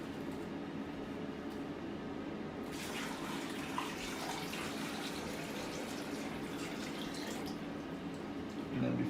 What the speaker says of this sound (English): So I'm going to fill up the bag with the water.